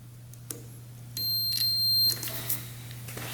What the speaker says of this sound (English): If we hear a beep, we should be good.